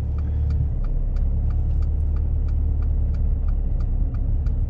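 A learner's car pulls away from the kerb during a driving lesson, its engine giving a steady low rumble with a faint regular ticking, probably the indicator, running throughout.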